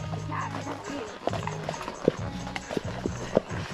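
Horse hooves clop unevenly on hard ground while people talk nearby, with a few sharper hoof strikes standing out, during trail horseback riding at a dude ranch in Pigeon Forge, Tennessee.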